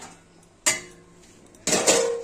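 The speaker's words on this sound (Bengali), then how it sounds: "ঢেকে দিলাম কয়েক মিনিটের জন্য।" A metal lid set onto a cooking pot of papaya and soybean curry makes two distinct close clanks about a second apart, each ringing briefly in an otherwise quiet kitchen.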